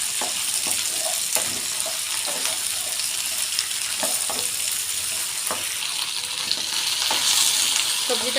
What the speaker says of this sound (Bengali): ঢ্যাঁড়স আলুগুলো দিয়ে দিলাম সবজিটা কিন্তু খুব ভালো করে ভাজবো